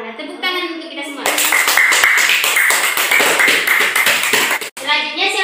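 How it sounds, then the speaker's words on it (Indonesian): A classroom full of children claps together in a loud, fast burst of applause during a micro-teaching lesson, preceded by a teacher's voice and broken by a brief pause near the end. "Tepuk tangan untuk kita semua."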